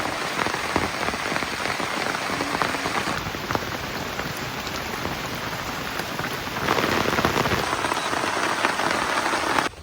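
Steady, dense rain pattering on surfaces in a rural Bengali setting, a continuous loud wash of drops that swells slightly toward the end, with no voices.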